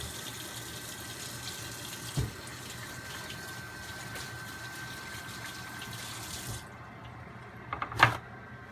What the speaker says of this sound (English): Still going to wash my hands.